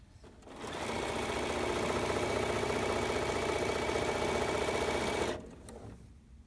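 Sewing machine stitching a minkee blanket: a rapid, steady mechanical whir that starts up, runs evenly for about five seconds, then stops abruptly.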